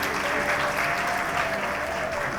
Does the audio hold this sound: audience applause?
yes